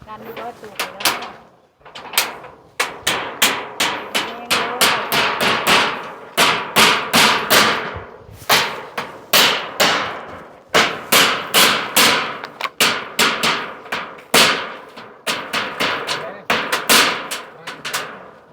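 Repeated sharp hammer blows on wood while building a small hut's roof, in quick irregular bursts, loud and close, with short pauses between series of strikes.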